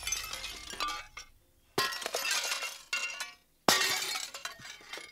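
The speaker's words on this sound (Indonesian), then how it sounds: "Ini suara ngancurin kaca guys." Window glass being smashed in a series of three sharp crashes, each followed by tinkling shards falling and scattering, loud and close with short pauses between.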